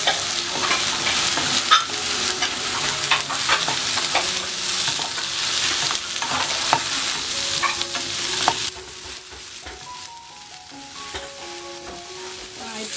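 Masala with tomato sizzles and fries in a pan while being stirred until brown for a coriander and coconut chicken curry, a steady close sizzle with scraping strokes that quietens near the end.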